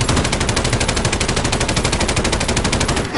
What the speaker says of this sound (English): I'm shooting at him now.